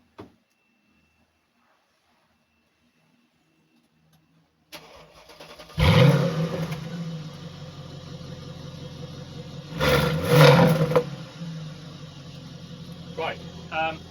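Mercedes SLK55 AMG R172 V8 with exhaust valves held open, X-pipe and resonator delete, starting after a quiet stretch: a loud rising bark settles into a throaty idle, with a second revving burst later and a short flare near the end.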